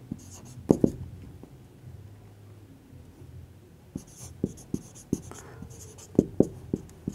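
A pen scratches across paper while a maths problem on sets and functions is worked by hand, with short strokes clustered in bursts between pauses and a quiet room behind.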